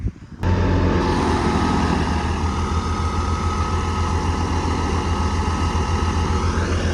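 A farm tractor engine runs after its broken grille was replaced, starting with a brief clatter and then settling into a loud, steady, close-up drone with a low throbbing hum and no talk.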